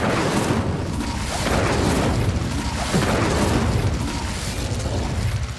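Repeated Incendio fire spell blasts in Hogwarts Legacy roar as dense, booming bursts over a continuous rumbling background, several surges rising and falling across the stretch.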